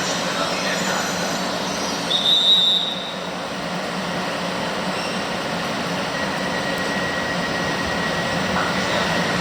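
A train rolls past a platform at Milano Rogoredo station in the rain, a steady rumbling wash with a short high wheel squeal early on.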